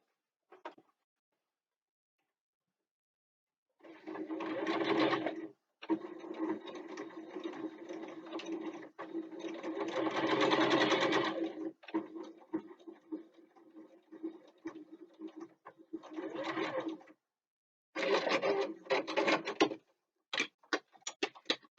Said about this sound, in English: So we'll take it to the machine and do a quick sew.